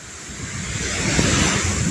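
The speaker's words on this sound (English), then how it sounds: "It's so windy." Strong wind roars continuously, buffeting loudly with a broad rushing hiss that builds slightly over the two seconds.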